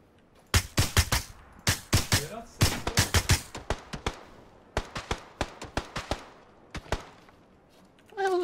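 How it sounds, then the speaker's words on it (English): Bursts of gunfire in the battle game PUBG, played in first person: rapid sharp shots cluster in rhythmic volleys with short gaps, loud and close, with no talking. "What the hell is this guy shooting?"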